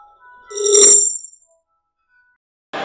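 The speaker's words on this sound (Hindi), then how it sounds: "बाय डिफॉल्ट जो भी विंडो 11 विंडो 10 का रिंगटोन सेट है" Default Windows 10/11 system chime played on a PC, a short bright tonal jingle, loud and clean, followed by silence and a brief noise burst at the end.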